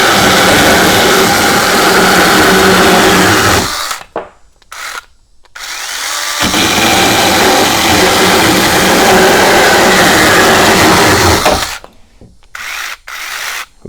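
A Sainlogic mini chainsaw running on a Makita battery cuts loudly and steadily for about four seconds. It then stops briefly with a few short bursts and runs again in a long sustained cut before more brief stops.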